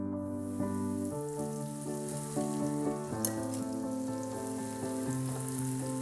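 Green beans for a homemade casserole deep-fry in oil heated to 350 degrees, a constant soft bubbling sizzle over tonal background music, with no speech.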